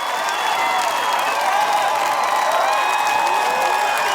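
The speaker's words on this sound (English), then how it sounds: "Look at the crowd. They love this tonight." A crowd at an Australian Ninja Warrior semi-final cheers and applauds in a sustained, dense wash of clapping and shouts inside a large arena. It stays at an even level from start to finish, with a commentator's voice faintly underneath.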